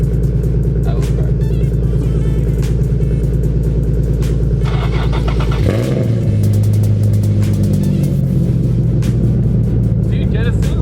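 A car engine idles with a steady low drone, then catches a sharp start around the middle and revs up loudly, the exhaust rumbling close by while people talk nearby.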